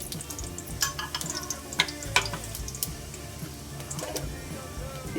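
Whole spices including garam masala, fennel and cumin seeds frying in hot oil and ghee, a steady close sizzle with scattered crackles and small pops, no talking.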